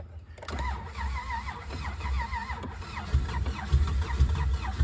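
A car engine in the middle of a budget engine swap cranks with a whirring starter and repeated turning-over, then catches and rumbles, close and loud with no talking.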